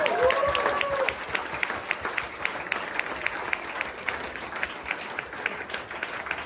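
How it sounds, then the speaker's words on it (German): Audience applause at an award ceremony, a broad wash of many hands clapping at moderate level, with a voice briefly heard over it at the start. "So, Applaus für die beiden"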